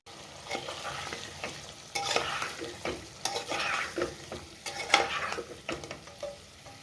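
Spices for aloo palak, including garlic, turmeric and coriander-cumin powder, are stirred in a hot pan, giving repeated scraping strokes over a soft sizzle, close by and with no speech.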